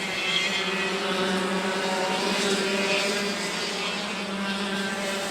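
Racing machines scream past at speed on a racetrack, the number 12 among them, a steady loud droning engine roar with harmonic whine that holds throughout without a break.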